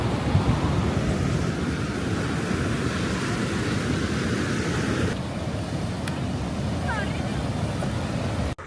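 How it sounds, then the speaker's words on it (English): Pacific Ocean surf on Zipolite beach in Oaxaca, a continuous loud roar of breaking waves with strong wind rumbling across the microphone throughout. "And there's the Pacific Ocean."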